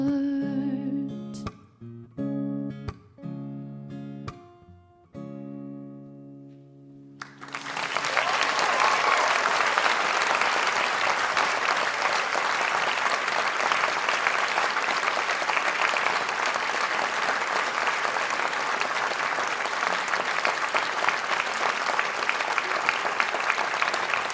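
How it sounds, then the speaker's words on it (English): Audience at a school alumni concert breaks into sustained, dense applause after a song, loud and steady for many seconds, preceded by a few seconds of plucked, sparse instrument tones as the performer tunes. "That was very nice applause."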